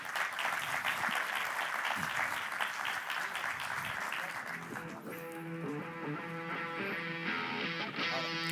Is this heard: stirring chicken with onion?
no